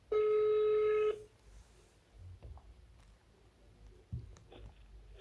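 One loud ringback tone sounds through a phone's speakerphone for about a second, followed by quiet room rustling and faint handling clicks.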